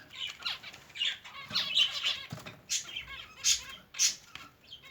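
Zebra finch chicks in a breeding setup give repeated high, thin chirps and squeaky calls in quick irregular bursts, with light rustling between them and no talking.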